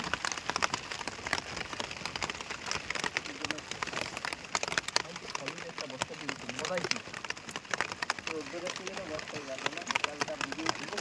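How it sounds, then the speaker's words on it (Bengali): Steady rain patters on a surface outdoors at a fishing spot, a dense continuous hiss that runs throughout, with people talking intermittently over it. "বৃষ্টিটা একটু কমলো বন্ধুরা"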